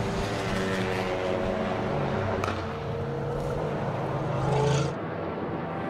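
A time attack race car at Circuit of the Americas drones steadily at close range, its engine note holding and then swelling briefly before it cuts away, with no talking over it.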